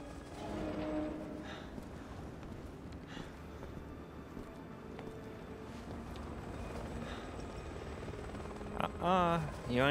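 A helicopter hovers overhead in Resident Evil 6, giving off a continuous rumbling, whirring drone for the whole stretch, with game noise and effects mixed in near the end.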